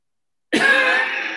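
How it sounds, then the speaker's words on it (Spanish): A single cough or throat-clearing from a traveler with an allergy, starting abruptly after silence and holding on as a fairly loud, rasping burst close to the microphone. "Tengo tos."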